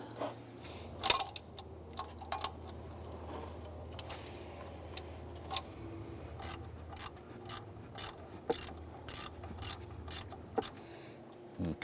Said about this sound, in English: So let's go ahead, loosen and remove these two bolts.